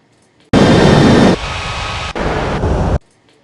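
Loud jet airliner roar from an air traffic control game at Ngurah Rai Bali International, a sudden sustained burst that drops in level partway through, then cuts off abruptly.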